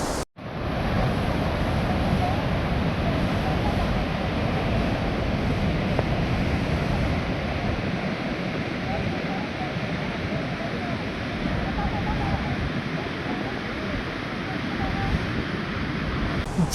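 Water pours over an artificial dam waterfall at Ormanjhi near Ranchi, Jharkhand, in the monsoon, a steady loud roaring rush close by with wind on the mic, after a brief opening cut.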